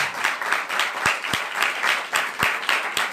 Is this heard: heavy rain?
no